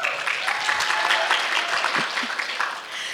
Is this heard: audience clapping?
yes